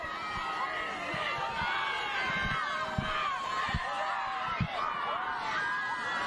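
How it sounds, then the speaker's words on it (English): Cheerleaders and a crowd cheer at a high school football game between North Pocono and Scranton Prep, a steady dense roar of voices and chatter with scattered thumps, heard from within the stands. "they're cheering on their defense"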